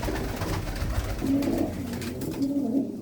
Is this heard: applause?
no